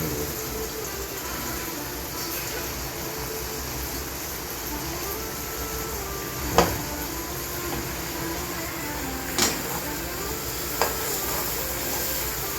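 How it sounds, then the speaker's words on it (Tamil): Marinated prawns frying steadily in hot oil for a Jaffna-style prawn fry, a continuous moderate sizzle with a few brief clicks of a utensil against the pan. "இறால் பொரியல் பரட்டி வச்சுருந்தது ஊறி இருக்கு. அதை நல்லா பொரிச்செடுக்க போகிறோம்."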